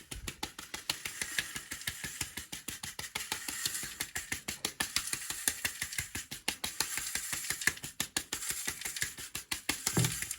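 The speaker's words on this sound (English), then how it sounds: "and that is going to be shaken in that sieve" A sieve with 26 mesh screen is shaken to sift ground herb powder, giving a steady, fast rattling and scraping rhythm of repeated close strokes throughout, with no talking.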